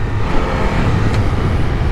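A 2022 Triumph Tiger 1200 Rally motorcycle engine runs hard off-road, a loud, close, continuous engine roar with rough broadband rumble that holds steady throughout, no voices.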